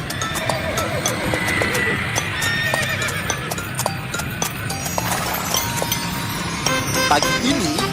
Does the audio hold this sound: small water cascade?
no